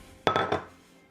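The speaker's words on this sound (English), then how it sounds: "Get my little bowl." A small bowl is picked up and set down on a kitchen counter, giving three quick, close clinks that ring briefly before fading into quiet.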